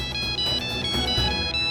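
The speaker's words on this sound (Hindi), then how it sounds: "अरे इस वक्त किसका फोन आ गया?" A phone ringtone rings loudly and continuously, a bright repeating electronic melody with a steady pulse, alone without voices.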